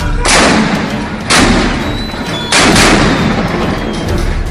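Three heavy booming cannon blasts, about a second apart, each with a long rumbling roll that carries into the next, in a staged battle between Dutch and Portuguese troops at a fort.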